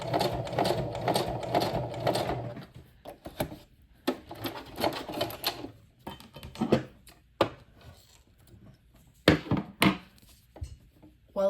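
A sewing machine stitches through leather at its longest stitch length, making loud rapid mechanical bursts close by, stopping and starting in short irregular runs.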